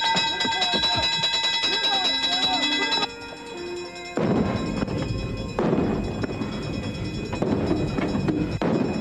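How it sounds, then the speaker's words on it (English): A shrill, ringing alarm sounds steadily aboard a ship, then cuts off and gives way to deep rumbling booms and clatter, with voices faintly underneath. "Sound the alarm"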